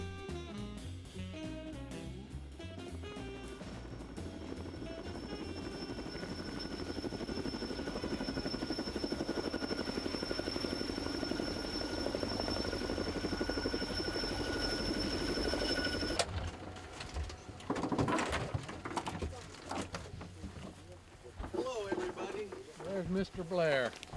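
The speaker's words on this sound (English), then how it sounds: "my friend Peter Christensen were sitting in a helicopter together with a group of Americans" Steady low rotor drone and whine of a helicopter, heard from inside the cabin, filling the background for most of the clip, shifting into rumbling, irregular noise near the end.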